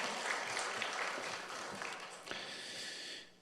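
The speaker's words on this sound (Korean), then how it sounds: "우리 나오실 때 우리 박수로 환영했으면 좋겠습니다." A church congregation at a late-night prayer meeting applauds to welcome a pastor, producing a dense, continuous wash of clapping that stays steady and fairly distant, then thins and fades out near the end.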